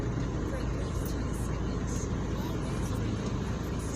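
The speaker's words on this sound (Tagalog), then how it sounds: "May traffic dito konti mga idol." Continuous road traffic at a checkpoint on Daang Hari, a dense steady rumble of cars and buses idling and creeping along, loud and close with no break.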